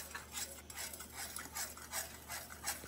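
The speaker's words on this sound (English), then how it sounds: "So we are whisking now" Soft cereal being whisked in a pot, with a brisk, rhythmic swishing and light metallic scraping repeating several times per second, close and fairly quiet.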